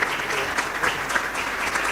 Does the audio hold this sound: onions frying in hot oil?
no